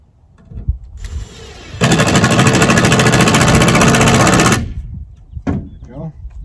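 A power drill or driver runs steadily for about three seconds as screws go into a Harbor Freight bed unloader during a modification, loud and close, with shorter whirs and clicks before and after.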